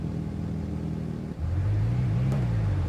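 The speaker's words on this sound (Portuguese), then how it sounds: "Ó o ronco do carro, rapaziada." A Fiat Uno Turbo with a nitro kit, in a racing video game, idles low, then its engine note jumps and holds a steady rising drone as it revs, with no talk over it.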